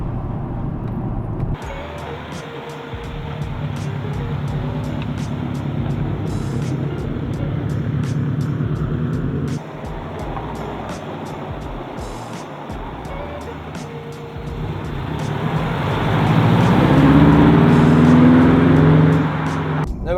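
Subaru Impreza STI engine pulling hard after a downshift, a steady loud drone under acceleration through a gear change, then building to a louder, rising growl near the end.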